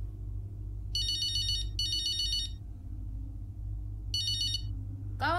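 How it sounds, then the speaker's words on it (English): A telephone rings in the F1 23 racing game's Braking Point story mode, three clear electronic ring bursts with pauses between them over a low steady background hum. "I thought there's going to be a phone call."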